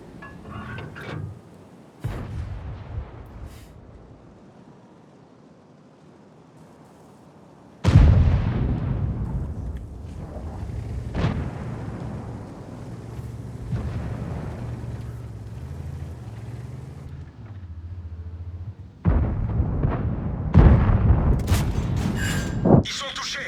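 Tank cannon fire in World of Tanks, heavy booming shots that open sharply and rumble with engine noise between them, with a second loud blast near the end and someone talking over parts of it.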